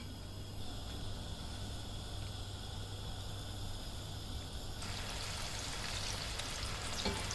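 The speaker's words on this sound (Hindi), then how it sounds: "तो इसमें मैं ये एक एक करके चिकन का पीस डालती हूँ।" Boneless chicken pieces hit hot oil in a pan one by one, giving a steady close sizzle that turns brighter and louder partway through.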